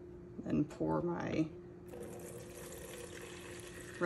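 Used, relatively clean paint thinner from oil painting cleanup is poured back into its container through a screen; a voice talks briefly at first, then a steady, soft liquid trickle continues alone.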